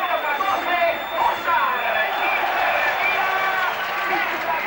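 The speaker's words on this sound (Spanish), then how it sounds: "Aplausos para Higuera." Stadium crowd applauds as Real Zaragoza's Higuera leaves the pitch in the 1995 Cup Winners' Cup match against Feyenoord, a steady roar of clapping and cheering with a commentator talking over it.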